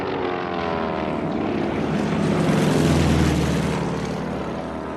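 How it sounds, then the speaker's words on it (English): B-17 bomber droning overhead, a loud, continuous propeller-engine roar that swells slightly toward the middle and holds steady, with no voices. "Dozens of B-17s flying in broad daylight."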